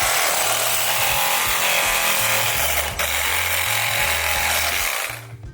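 A power tool cuts through metal bolt spacers for brake work on a 1967 Mustang, a loud, steady grinding roar with a droning low hum that holds for about five seconds before trailing off at the end.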